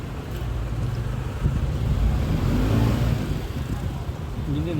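Car pulling away during a driving lesson, a low engine rumble rising as it accelerates, heard from inside the cabin with wind noise and faint voices in the background.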